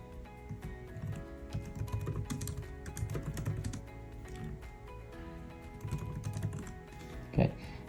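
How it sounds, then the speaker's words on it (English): Keys on a computer keyboard clatter in quick irregular bursts throughout, fairly close and moderately loud, with a louder thump near the end and no talking. "I'll type in"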